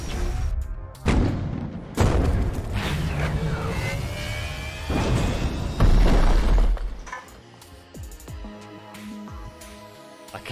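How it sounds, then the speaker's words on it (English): A spaceship crash-lands in the game Star Renegades with a string of heavy booms, shattering impacts and grinding metal debris, loud and close, fading into scattered clatter near the end. "I guess I botched the landing."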